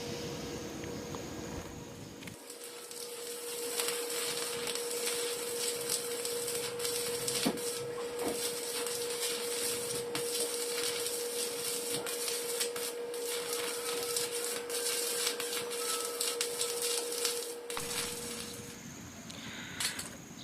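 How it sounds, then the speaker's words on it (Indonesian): A welding torch runs all around the casing of a freezer compressor with a steady, continuous hiss and a faint whine, holding constant for about fifteen seconds with no speech. "saya akan coba lakukan las keliling selanjutnya"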